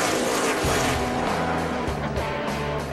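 NASCAR Nationwide race cars at Nashville, 2010 Federated Auto 300, roar past in a loud, dense engine blare with shifting pitch as cars pass, continuous throughout with no talk.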